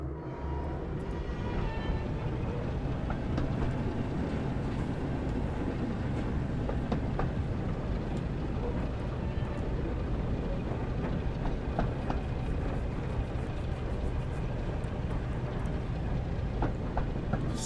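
Steady diesel locomotive engine rumble from the Train Sim World 5 video game, a continuous dense drone with faint rail clatter running throughout, no talking.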